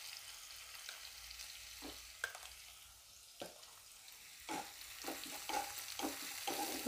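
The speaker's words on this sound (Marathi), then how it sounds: "व्यवस्थित परतून घ्यायची मिरची आणि लसूण." Radish leaves stir-fried with green chili and garlic in a pan give a steady sizzle, with a spatula scraping and stirring in irregular strokes close by and no voices.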